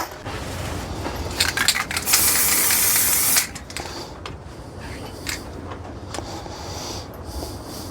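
Black spray paint applied to M6 washers and 3/16 pop rivets: a close, sharp hiss of aerosol in a sustained burst and shorter puffs, along with a can's rattle and small clicks.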